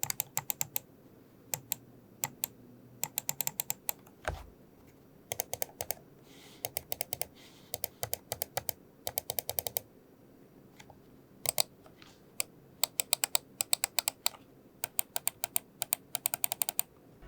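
Sharp clicks of a Zowie wireless gaming mouse's switches in quick bursts of several taps, separated by short pauses, crisp and close with no talking.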